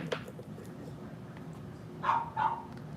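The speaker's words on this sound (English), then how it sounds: "she's still throwing a fit, that little dog" A small dog barks twice, a little apart, over steady room background noise in a nail salon, with a fainter yip near the start.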